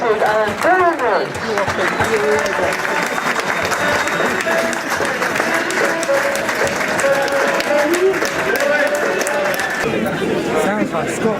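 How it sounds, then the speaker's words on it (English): Dense, sustained crowd applause fills a stadium at an FA Cup match between Boreham Wood and Carlisle United, cheering the mascots as they leave the pitch. Steady clapping continues throughout, with crowd voices mixed in. "could we have a big round of applause for our mascots, please, as they leave the pitch"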